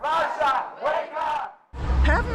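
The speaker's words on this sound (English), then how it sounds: "Demonstrators held placards, waved Ukrainian flags, and chanted in support of Ukraine despite wet and rainy conditions." Crowd of demonstrators in Sydney chanting in support of Ukraine in wet, rainy weather, rhythmic massed voices in repeated phrases, fairly close, with a brief gap before a louder burst of shouting.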